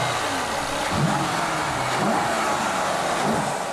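A 2012 Mercedes CLS 63 AMG's 5.5-litre turbocharged V8 hums at a steady mid pitch, with a few rising and falling revving swells over broad road and wind noise.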